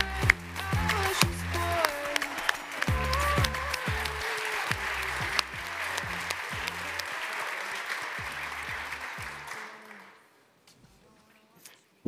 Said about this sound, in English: please give a warm applause to Zeitgeist and CodeQ